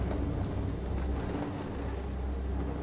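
Rain patters on a glass roof in the steampunk laboratory of the video game Haven Moon, a dense, even drumming with a low rumble beneath it, steady and close throughout.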